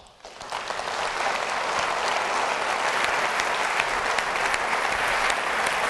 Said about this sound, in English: Big round of applause for Mike Long.